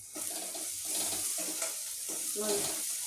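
Onions and peas fry in a pan for a village-style rice dish, a steady soft sizzle broken by a few stirring scrapes, close and fairly quiet with no talk.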